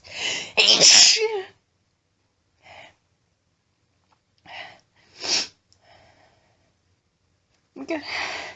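A strong human sneeze bursts out loud and close, with a quieter sniff and short breathy sounds following in the pauses and another sharp burst near the end.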